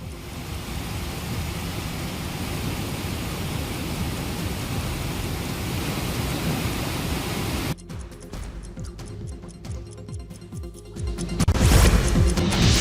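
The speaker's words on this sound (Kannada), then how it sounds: "ನಿರಂತರ ಮಳೆಯಿಂದಾಗಿ ತಿರುನೆಲ್ವೇಲಿಯಲ್ಲಿ ಮಣಿಮುತ್ತೂರ್ ಜಲಪಾತ ಉಕ್ಕಿ ಹರಿತಾ ಇದೆ" Manimuthar waterfall in Tirunelveli overflows after heavy rain and a large dam release, a loud, dense roar of rushing water that runs unbroken, then cuts to a rougher, nearer surge that swells toward the end.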